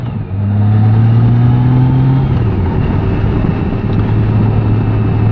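A car engine pulls in second gear along a winding road, a loud close drone whose pitch rises steadily, dips as the load shifts, then resumes a steady hum, with no voices.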